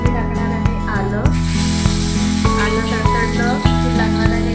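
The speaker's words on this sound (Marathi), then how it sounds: "कढई ठेवलेली आहे. त्याच्यामध्ये मी टाकणार आहे आलं" Ginger dropped into hot oil in a kadhai sets off a bright, steady sizzling hiss that starts suddenly and carries on beneath a loud, rhythmic music track.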